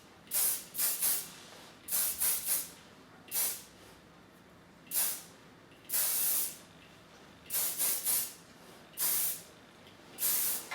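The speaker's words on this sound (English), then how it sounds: "Using a tiny bit of hairspray, very lightly, to secure any loose hairs." Hairspray is misted lightly onto hair in a run of short, crisp aerosol hisses, some single and some in quick pairs, spaced about a second apart and close to the ear, with no talking.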